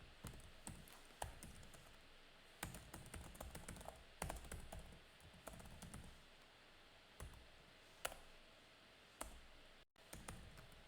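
Quick bursts of clicks from keys pressed on a computer keyboard as a shortcut is entered, near and crisp, in scattered clusters with short pauses between them. No one speaks.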